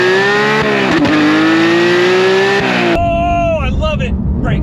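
Porsche GT3 Touring pulling hard from low revs with a flat-foot shift: the engine note climbs loud and close, cuts briefly at the shift, then climbs again with a rasping, crackling tone.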